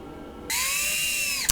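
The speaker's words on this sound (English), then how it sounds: "I'm just screwing in one screw on each 4 corners" A power drill whirs up sharply as it drives a screw into a wooden stool. The single loud, steady burst lasts about a second and ends with a brief clack.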